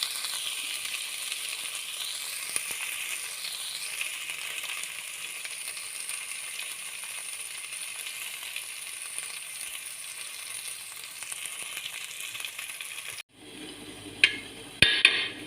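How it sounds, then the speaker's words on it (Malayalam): Rice stirred and fried in hot ghee for ghee rice makes a steady, bright sizzle up close that runs for most of the stretch, then stops abruptly, leaving a few clinks of utensils and a sharp knock near the end. "അത് 2 മിനിറ്റ് നമുക്ക് ഇളക്കി കൊടുക്കാം."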